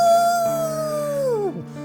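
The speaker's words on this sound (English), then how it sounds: "The howling echoes throughout the night." One long, drawn-out howl that holds its pitch, then slides down and fades out, clear against a quiet background.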